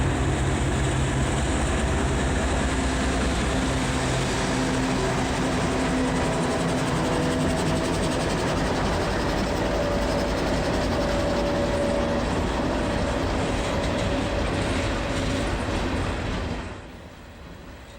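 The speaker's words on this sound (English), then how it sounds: "Powering today's train is CXX 640, a AC 6000, and CXX 508, an AC 4400." A long freight train of Heritage hoppers led by CXX AC6000 and AC4400 locomotives rumbles past on the W&LE beside a river. The loud, steady rolling clatter continues almost to the end, then drops away.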